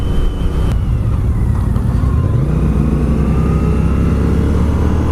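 A motorcycle carrying a rider and passenger cruises along, a loud steady engine drone with a low rumble that shifts pitch slightly as the revs change, wind noise mixed in.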